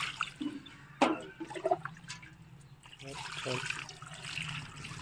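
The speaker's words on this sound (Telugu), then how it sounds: "ఏ కుండీలో మనం విత్తనాలు పెట్టుకున్నా వాటర్ మాత్రం బాగా చేయాలి" Water is poured onto soil in a terrace garden pot, a soft hissing trickle that swells into a steadier stream near the end, quiet and close.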